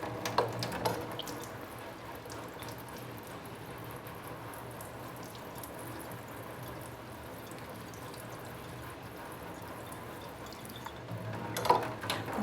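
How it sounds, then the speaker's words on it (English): Steady tap water runs into a sink to rinse a newly unboxed houseplant, a continuous even wash of flow with a couple of brief louder splashes at the start and end, no voices. "I'm going to rinse"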